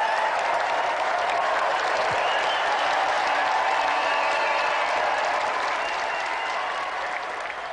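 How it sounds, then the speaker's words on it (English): A studio audience on the Gamesmaster TV show applauds steadily and loudly, a dense wash of clapping that holds throughout and eases off slightly near the end, with no voices standing out. "A round of applause, please, for John Morrison and the singer champion,"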